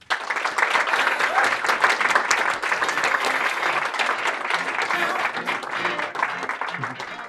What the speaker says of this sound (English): Please join me with a round of applause to welcome Maggie to the stage